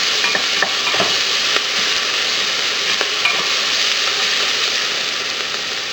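Ginger and scallions sauté in a hot pan for beef noodle soup, a loud continuous sizzle with scattered scraping stirs from a utensil, steady and close with no talking.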